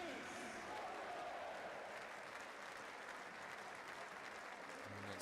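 Steady, broad applause from a large stadium crowd greets a substitute at a third-division German league football match between Energie Cottbus and 1. FC Saarbrücken, sustained and even throughout with no pause.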